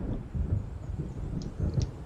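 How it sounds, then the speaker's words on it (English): Low rumbling thunder from an approaching storm in the Alan Wake video game, a continuous dull roll with wind-like noise and a couple of faint higher tones over it. "It seems there's a storm coming."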